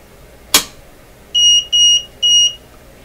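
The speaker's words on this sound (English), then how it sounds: "It's going to beep also, just because this thing likes to beep a lot." A vacuum tube voltmeter, one of three being checked and calibrated, gives a sharp click and then three short, even, high-pitched electronic beeps in quick succession, loud and close, with no talking.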